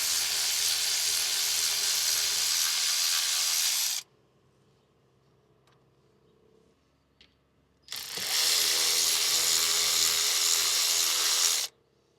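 A ratcheting tool unscrews the airbag bolts on a 2011-2014 Dodge Charger steering wheel: two loud, steady whirring bursts of about four seconds each, close by, separated by a quiet pause with faint clicks.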